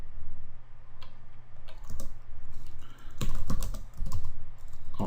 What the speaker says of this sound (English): I'll type in interface F0/1.